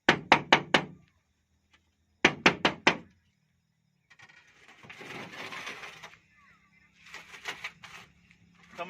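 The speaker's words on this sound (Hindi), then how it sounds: "दरवाजा ठकठकाओ।" Knocking on a house door in a comedic Hindi skit: two close, sharp bursts of four quick raps each, separated by a short pause, followed by a stretch of indistinct voices and background noise.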